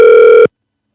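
A single outgoing-call ringing tone sounds on a phone, a steady, loud electronic tone lasting under half a second and then cutting to silence.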